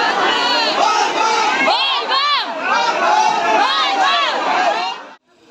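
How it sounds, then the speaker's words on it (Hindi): A dense crowd packs a busy railway station, many voices shouting and calling out together in a loud, continuous roar that swells in waves before cutting off abruptly at the end. "स्टेशन के भीड़ है।"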